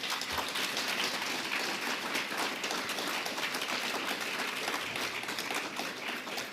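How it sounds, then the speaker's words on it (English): An audience at an NAACP 2024 candidate forum applauds the candidates, with dense, even clapping from a sizable room that holds steady throughout. "A round of applause for the candidates."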